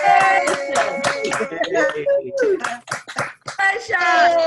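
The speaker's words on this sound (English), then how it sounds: "give them a little loud cheer so that we can hear" Participants on a Zoom call at a regular board meeting cheer and clap, a few scattered claps under overlapping excited voices and calls.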